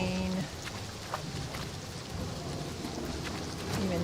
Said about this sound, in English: out wandering around in the rain.